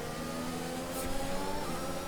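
Formula 1 car engine in the racing video game F1 2021, a steady moderate drone with a brief higher whine, heard alone without talk.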